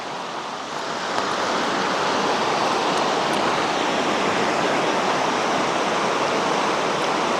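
A river flows beside a willow-shaded bank in rainy weather, a dense, steady rush of water that swells after the first second and then holds loud and constant, with no voices.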